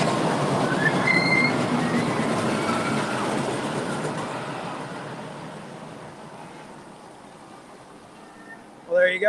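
Jaguar roller coaster train at Knott's Berry Farm rumbling loudly past nearby, a broad roaring clatter with wheel squeal that slowly fades as the cars move away, followed by a brief noise burst at the end.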